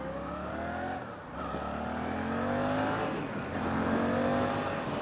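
A 2023 Suzuki GSX-8S motorcycle accelerates hard, its engine note climbing through the revs in a couple of rising sweeps, moderately loud and without voices.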